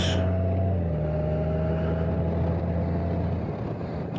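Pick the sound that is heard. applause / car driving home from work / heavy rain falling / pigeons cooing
car driving home from work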